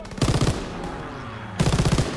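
Two short bursts of MG42 machine gun fire in the World War II video game Call of Duty: WWII, rapid rattling volleys separated by a brief pause, moderately loud with no talk.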